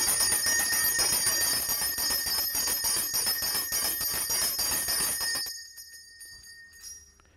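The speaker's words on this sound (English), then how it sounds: "while I was shaking the bell" A metal bell shaken steadily in an indoor space, with a rapid run of bright ringing strikes that holds for several seconds, then stops abruptly and leaves a short decaying ring and one faint final tap.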